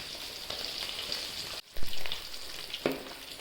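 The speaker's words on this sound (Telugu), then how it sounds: "పొట్టు పొట్టుమంటానే దూరం జరిగి నూనె చిమ్ముతుంది మరి" Fish frying in hot oil, a dense steady crackle and sizzle with sharper pops, including a loud burst of spattering partway through.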